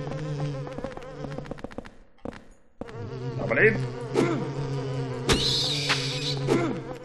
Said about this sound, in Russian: Надоедливые мухи, ужас какой-то.